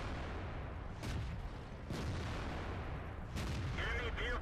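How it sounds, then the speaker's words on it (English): KV-2 tank cannon firing in the World of Tanks game, a few deep booming blasts over a constant low rumble of engine and battle noise, fairly distant and muffled. "I finally get that KV-2 shot that I wanted"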